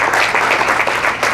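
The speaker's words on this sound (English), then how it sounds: "Give them a round of applause" An audience claps continuously throughout, a dense, even burst of many hands close and loud with no voices standing out.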